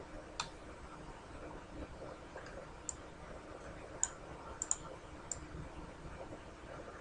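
Mouse clicks while selecting joints in Maya, a handful of sharp, quiet, isolated clicks spaced irregularly over faint room noise.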